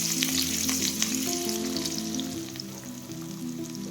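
Onions frying in a pan with mustard seeds and cumin for an okra palya give off a steady, close sizzle with faint stirring, and nobody speaks.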